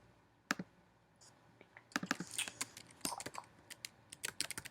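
Fingers tap on a computer keyboard in irregular bursts of sharp clicks, sparse at first and then quicker and denser, close and fairly quiet, with no speech.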